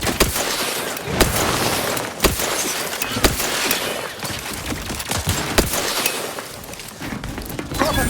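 Rapid bursts of gunfire in the video game The Outer Worlds 2, loud sharp cracks and automatic volleys overlapping in a chaotic firefight with no speech.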